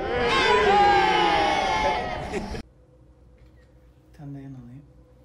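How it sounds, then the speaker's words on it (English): A cricket team's group loudly cheers together in a big, sustained shout lasting a couple of seconds, then stops abruptly, followed by quiet and a brief voice. "Tell you what, guys, after three, a big cheer."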